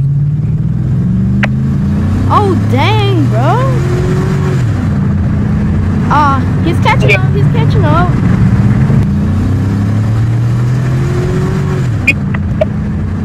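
Video game street race between an old beater car and an OBS-era truck, engines droning and revving loudly with rising and falling pitch as they accelerate, while excited voices talk over the race.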